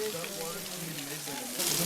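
At the Emerald Pools in Zion National Park, a waterfall spills down like rain, a steady hiss of falling droplets behind nearby voices talking, growing louder near the end.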